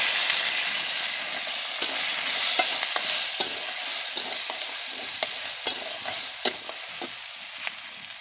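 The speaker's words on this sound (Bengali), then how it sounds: "এবার আমি কাঁকড়াগুলো দিয়ে দেবো।" Crabs fry in hot oil seasoned with panch phoron and dried red chillies, giving a loud, steady sizzle throughout, punctuated by sharp clicks and scrapes of stirring against the pan, with no voices.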